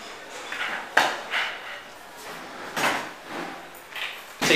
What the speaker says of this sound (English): I'm going to close the door real quick